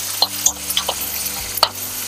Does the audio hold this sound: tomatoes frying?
yes